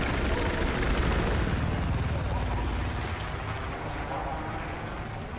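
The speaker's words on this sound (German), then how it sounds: "Der Heli bedeutet nichts Gutes." Helicopter in the video game Battlefield 4, a steady, loud rotor and engine roar filling the whole stretch without a break.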